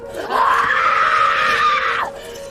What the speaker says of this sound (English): she was still screaming